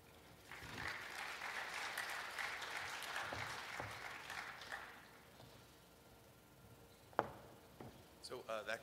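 Applause from a conference audience after a computer vision talk, a dense burst of clapping for roughly five seconds that then thins out, followed by a sharp knock and some faint rustling.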